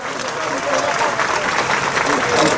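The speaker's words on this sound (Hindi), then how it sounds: "देखा था ताली बजाओ जोर से।" Sustained crowd applause at a village public meeting in Thelka, Bemetara, held for the chief minister's Bhent Mulakat visit. The clapping is a loud, even wash that swells slightly, with someone speaking over it.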